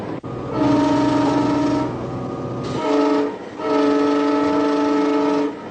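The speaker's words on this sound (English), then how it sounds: "As she brings the train into a station, Vita must learn the right timing" An older passenger train sounds its loud multi-tone horn while pulling into a station: one long blast, a short break, then two more sustained blasts, up close over the rumble of the train.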